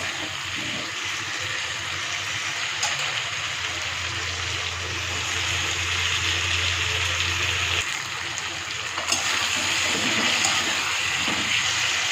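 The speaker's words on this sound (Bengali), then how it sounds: "এবার আমি জল দিয়ে দিচ্ছি পরিমাপ মতো জলটা দিয়ে দিচ্ছি" Water is poured into a cooking pan of spiced masala and fried potatoes, making a steady, fairly loud gushing splash that runs for most of the stretch with no voices.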